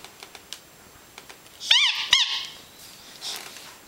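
A dog's squeaky rubber toy ball squeaks twice in quick succession, sharp and close, after a run of faint tapping clicks, with a softer squeak following later.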